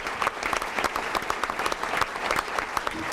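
Audience applause at a school board of education meeting honoring Career Tech students, a dense, steady round of clapping from a room of people, close and even throughout.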